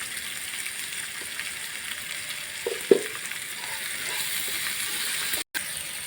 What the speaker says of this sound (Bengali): টমাটার দিয়ে আমি ভেজে নেব, আর সঙ্গে দেব নুন